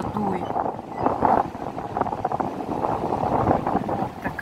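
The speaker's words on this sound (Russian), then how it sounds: "Капец, какой тут ветродуй" Strong wind roars and buffets the microphone in a steady, loud rush with low rumbling gusts throughout, at the Genoese fortress in Sudak, Crimea.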